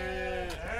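A sheep bleats at a petting farm, a loud, close, quavering call that fills the short moment with a tremor near its end.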